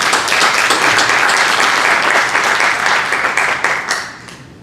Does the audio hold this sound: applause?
yes